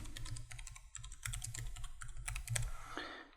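Typing on a computer keyboard, quick close clicking keystrokes in a steady stream with no talk.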